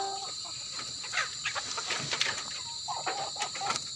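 Chickens cluck and chatter in short, scattered bursts nearby, with soft pecking and rustling between calls.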